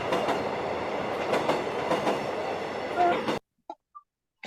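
Recorded train passing with steady rolling rumble and rhythmic wheel clatter for about three seconds, then cutting off abruptly, followed by brief quiet sounds from a children's transport-guessing lesson.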